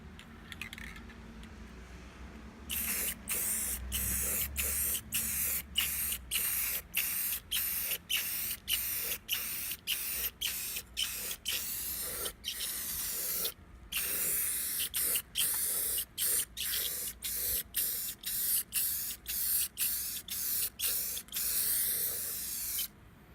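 An aerosol can sprays paint onto a Ford 8.8 rear differential cover in repeated short bursts, loud hissing blasts separated by brief pauses, with quiet room sound before the spraying starts.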